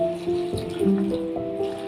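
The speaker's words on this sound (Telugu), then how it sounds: "కొంచెం వాటర్ పోసుకోవాలి" Water pours and gurgles into a metal pressure cooker holding cucumber and spices close by, its pitch shifting as it fills, with a faint hum underneath.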